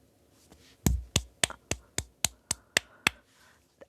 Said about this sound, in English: That was me clapping.